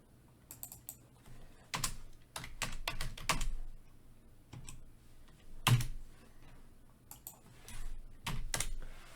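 Code is typed on a computer keyboard in quick, uneven bursts of close, crisp key clicks, with short pauses between runs and a few heavier strokes, probably the space or enter key, with no talking.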